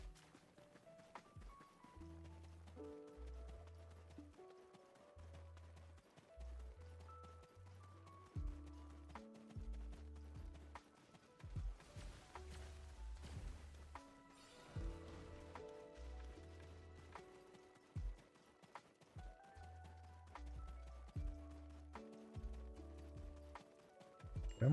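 Horse hooves gallop in the online game Black Desert, a steady, rapid clip-clop rhythm repeating through the whole stretch and mixed with game music, with no talk.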